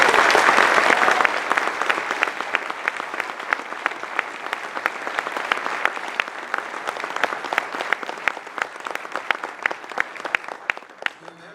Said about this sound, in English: I would ask this audience to give an aggressive round of applause